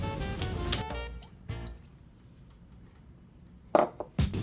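Buttermilk pours into a liquid measuring cup in a few short splashy bursts, with a quiet pause between them and two sharper drips or knocks at the close.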